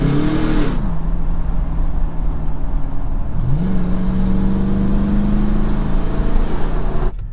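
A truck fitted with turbo exhaust whistles running at wide open throttle, a loud sustained engine roar topped by a piercing steady whistle that fades, returns, and holds for several seconds before cutting off.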